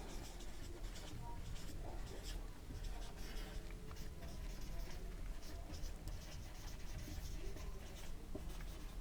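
A pen or marker scratches steadily across a board during a Class 10 maths lecture on polynomials, a continuous close scribbling texture with a voice faintly present alongside it.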